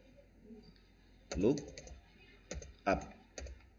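Keys clack on a computer keyboard while an Excel VLOOKUP formula is entered, a few scattered, close clicks between quiet moments, with a voice talking over them.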